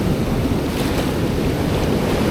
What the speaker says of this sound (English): Oh, that's a big wave.